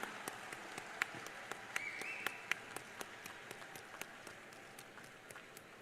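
Audience applause welcoming Chief Minister Naveen Patnaik at a millets convention inaugural ceremony, distinct claps spaced regularly and fairly faint in a large hall.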